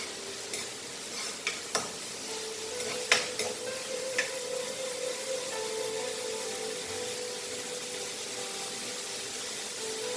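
Onions fry steadily in a pan for a Goan chicken xacuti, with a dense, even sizzle and a few faint stirring clicks early on.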